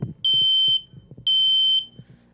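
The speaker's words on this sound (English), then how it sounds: "That is the sound a smoke detector makes, loud enough to wake an entire household." A smoke detector alarm gives two loud, piercing electronic beeps, each lasting about half a second, separated by a brief gap, over a low, quiet background.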